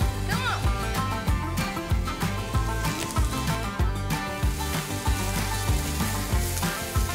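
Onions drop into a hot pan where brown sugar and beer are caramelising, and a steady close-up sizzle and bubbling fills the whole stretch at an even level.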